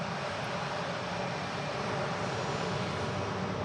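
A Ryanair jet departing Manchester Airport gives a continuous broad roar, fairly strong and unbroken from start to finish.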